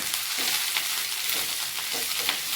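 Spinach greens sautéed in oil in a pan give a loud, steady close-up sizzle broken by soft rhythmic stirring scrapes, with no voices over it.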